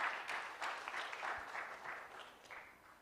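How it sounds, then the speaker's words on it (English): Audience applause at a national legal aid conference as a justice takes the podium. The clapping is faint and distant, coming from a hall crowd, and it fades gradually over a few seconds. "I'll clap as he takes the podium."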